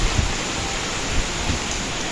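Strong wind and heavy rain during a typhoon make a steady, dense roar of broadband noise, with a few soft low thumps and no voices.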